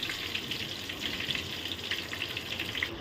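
Potatoes fry in hot oil for a mutton curry, with a continuous bright sizzle and scattered crackling pops, steady and fairly close, with no talking.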